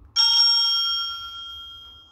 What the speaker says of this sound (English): Bike bell.